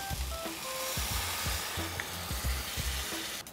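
Stock pours into a hot pan of Thai-style mussel dish seasoned with young green peppercorns, giving a steady close sizzle and bubbling with repeated low stirring knocks, no voices.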